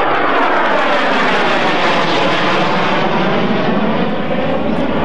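A B-2 Spirit stealth bomber flies past at the 1996 Hamilton air show with a loud, continuous jet roar. The sweeping tone shifts as it passes, and no voices are heard.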